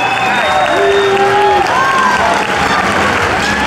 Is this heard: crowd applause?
yes